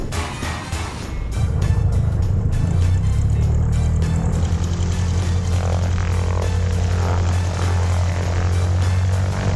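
Engine drone of a warbird aircraft taxiing toward a hangar in a flight video game, a steady low rumble that swells after the first second and holds loud and even throughout.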